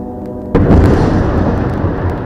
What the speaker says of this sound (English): Now the gunshots are getting closer,